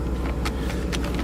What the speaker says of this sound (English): Oh, that's a turn signal.